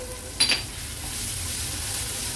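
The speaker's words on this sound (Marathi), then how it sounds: "टोमॅटो ह्या मसाल्यांसोबतच व्यवस्थित मिक्स करून घ्यायचंय" Tomatoes stirred with masala in a pan give a steady, close sizzle and soft frying hiss, with a brief scrape of the utensil near the start.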